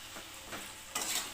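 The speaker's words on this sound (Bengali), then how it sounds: "ভালো করে মিশিয়ে দিলাম।" Curry being stirred in a pan with green chillies for a Bengali knol-khol dalna, faint scraping strokes of a spoon over a low sizzle, with a louder stir near the end.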